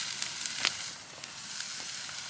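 Leg of lamb sizzling over an open fire during a reverse sear, a steady faint crackling hiss with a few brief pops and no talking.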